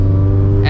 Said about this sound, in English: This car is significantly quieter than the 2-valve, and I mean, this has a straight piped exhaust too.